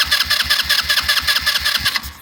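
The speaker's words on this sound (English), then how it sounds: "Let's turn it over. Let's see if it will start." A 150cc GY6 Chinese quad engine cranks over with a loud, close, rapid rhythmic starter chug that holds steady for about two seconds before cutting off.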